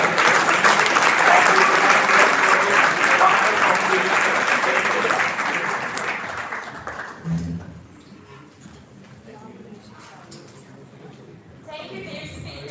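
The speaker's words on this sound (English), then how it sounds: "so I would ask you all to give a big clap" Sustained applause from a conference audience closing a panel session at a law congress, loud and dense for about six seconds, then thinning to scattered claps and fading, with a brief voice near the end.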